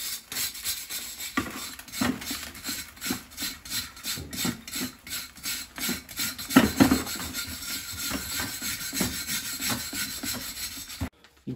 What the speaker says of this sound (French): on va se nettoyer là le doigt de gant